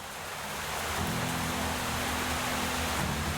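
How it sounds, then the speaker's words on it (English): Steady, dense rain hiss in the video game Kodama: Fall of Porcupine fills the scene, continuous and fairly loud, with a low hum underneath and no voices. "Why the game's so loud? I don't know. It's raining."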